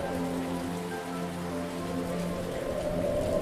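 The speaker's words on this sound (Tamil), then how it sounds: "மழை பலமா பெய்யுதே" Heavy rain pours down steadily as a dense, continuous hiss on surfaces, unbroken and fairly close throughout, with no voices.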